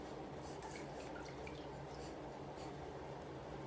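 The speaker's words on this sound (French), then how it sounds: "je vide le maximum d'eau" Water dripping and trickling as a shaving bowl is emptied before lathering Martin de Candre soap, a soft, steady patter of drops close by with no talking.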